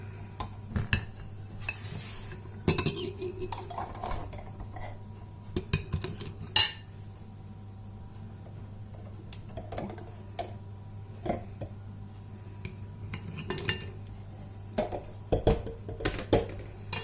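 Salted eggs being scooped out of a pot with a utensil: scattered metallic clinks and scrapes against the pot, some close and sharp, spread irregularly over a low steady hum with no talking.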